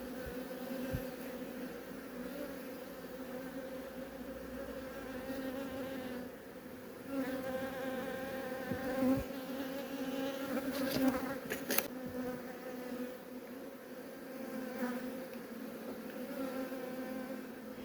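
Honey bees buzz steadily around an open beehive frame during a brood sampling for foulbrood, a dense continuous hum with individual bees droning closer and farther, no talk.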